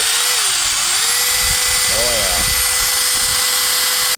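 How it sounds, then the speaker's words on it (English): Loud, continuous high-pitched whine of a drill grinding through metal, with a pitch that wavers partway through. "me burning up drill bits"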